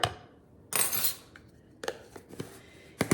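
Spoon clinks and scrapes as a generous tablespoon of PB2 powdered peanut butter is scooped into a blender, a few brief bright clattery bursts separated by quiet gaps, close and fairly soft.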